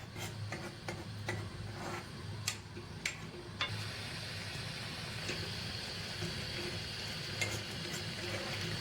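Masala for an egg and potato curry, with a little water added, is stirred slowly in a pan: soft spatula scrapes and a few sharp clicks over a faint, quiet simmer.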